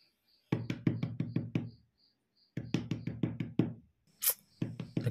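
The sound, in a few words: knocking on a door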